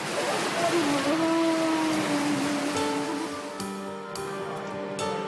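Sea swell and waves washing against the Tunisian coast, a steady broad roar of surf with wind, while tonal music plays over it.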